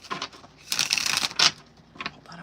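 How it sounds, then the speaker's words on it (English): Tarot cards being shuffled by hand, a run of crisp riffling and flapping bursts with a louder flurry in the middle and a short final snap, close and fairly loud, with no talking. "I want to shuffle that one more time"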